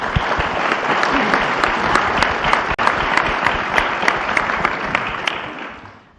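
Sustained, dense applause from an audience at a briefing on cleanup after severe weather, steady and loud throughout with sharp individual claps standing out, then cutting off abruptly at the end.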